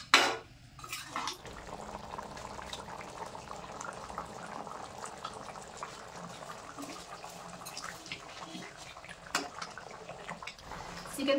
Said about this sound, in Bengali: এখন খানিকক্ষণ ফুটিয়ে নেব।